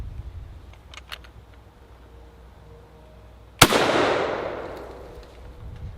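A single sharp, loud rifle shot from a German G41 firing Romanian surplus ammunition cracks out, followed by a long reverberating echo that fades over a couple of seconds.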